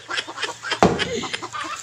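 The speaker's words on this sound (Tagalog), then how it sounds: "Ang ingay mong manok ka." A short, sharp fowl squawk cuts through quiet background chatter.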